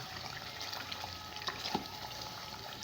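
Hyderabadi chicken biryani masala fries in ghee with a faint, steady sizzling hiss and occasional soft crackles.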